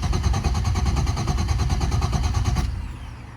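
A Nissan GT-R engine, freshly fitted with a complete fuel system including Bosch 210 injectors, runs at a steady idle with a slightly uneven, rumbling pulse, loud and close, before dropping off near the end.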